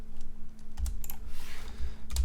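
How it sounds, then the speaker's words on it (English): Computer keyboard arrow keys tapped while nudging elements into alignment in a prototyping app, a string of close, crisp clicks at an uneven pace with a faint steady hum underneath. "we'll just use our keyboard arrow keys to get these in line"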